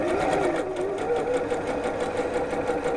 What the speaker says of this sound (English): we're going to sew right on that line all the way around the edge.